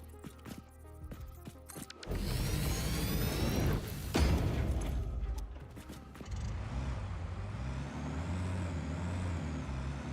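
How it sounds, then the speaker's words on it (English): Truck in the factory-building video game Satisfactory, heard as a loud mechanical burst like an air brake, followed by a steady engine drone that rises and falls as it drives off. "Let's just drive a little truck down this"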